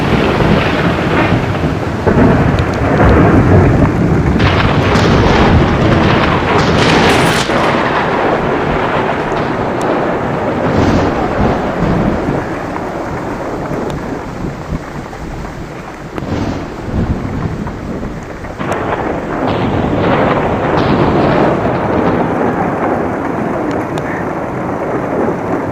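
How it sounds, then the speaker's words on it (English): A thunderstorm pours heavy rain in a dense, continuous roar, with deep rolling thunder swelling and booming loudly several times and gusts of wind buffeting the microphone. "it's a new day out here, and it's still raining"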